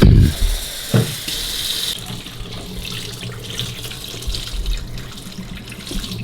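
A kitchen tap runs into a sink while raw chicken is washed, a steady close splashing stream that starts with a louder gush and a knock, then continues evenly.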